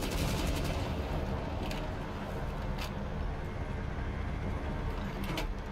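Gunfire in Rainbow Six Siege during a Border team deathmatch bomb round, shots fired through a window: dense, continuous rattling fire with a few sharper cracks standing out, loud and close throughout.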